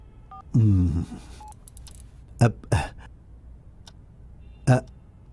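A few short electronic tones and clicks like a phone being dialed, interspersed with brief bursts of sound, close and clear.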